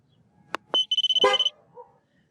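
Car horn honking in a quick series of short beeps, loud and close, with a few clicks before and a faint chirp after.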